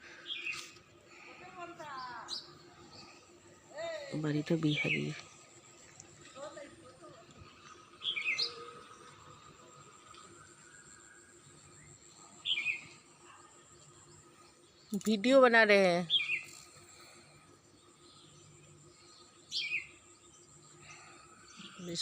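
Small birds chirp and tweet in a garden with a guava tree where biscuits are set out for them, short bursts of calls scattered near and far, with quiet talking in between.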